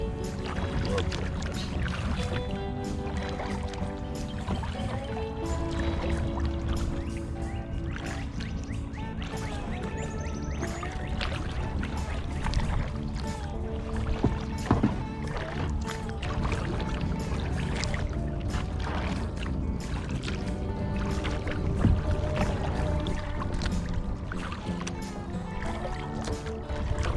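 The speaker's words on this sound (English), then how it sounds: "get out on the middle of nowhere like this and just kayak" A kayak paddles across Wallace Lake in Louisiana. Soft, repeated water splashes and trickles from the paddle strokes are heard fairly close, with a constant low wash of wind and water beneath.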